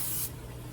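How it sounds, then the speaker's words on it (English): A short burst of cooking spray hisses onto hands for about a quarter second, close and bright, then cuts off to quiet room tone. "Now I'm gonna spray both my hands."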